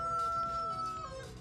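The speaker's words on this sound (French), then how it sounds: "Ce que vous avez entendu, c'est Coco le coq." Coco the rooster crows in one long sustained call, loud and fairly close, with no talking over it.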